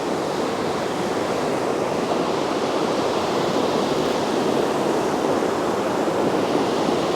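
A mountain torrent during an alpine monsoon churns boulders and mud, a dense, constant rushing roar of water that fills the whole clip with no pauses.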